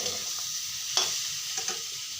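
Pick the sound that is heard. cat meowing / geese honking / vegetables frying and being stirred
vegetables frying and being stirred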